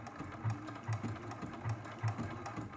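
A home sewing machine running smoothly during quilt-as-you-go block stitching, steady mechanical hum with a regular rhythmic thump repeating about every half second.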